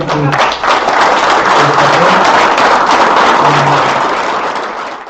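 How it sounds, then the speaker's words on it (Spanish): Audience at a book presentation bursts into sustained, dense applause, loud and close, with many hands clapping steadily for several seconds before tapering off slightly at the end. "quiero pedirles un fuerte aplauso para el doctor"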